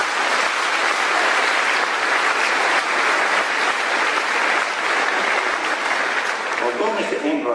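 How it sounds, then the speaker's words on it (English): A large graduation ceremony audience at a high school applauds in a dense, sustained wash of clapping that stays loud and even for several seconds. "Let's give Mr. Casalava and everyone else a round of applause."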